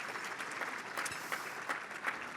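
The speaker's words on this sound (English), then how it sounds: "Big round of applause for that." An audience applauds at a breakfast event, a steady wash of clapping with a few sharper claps standing out, moderately distant and fairly soft throughout.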